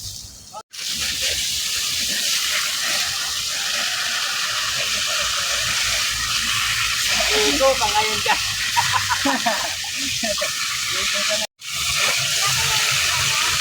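Steady, strong water rushing from a pipe hisses continuously nearby, with voices speaking briefly underneath the flow.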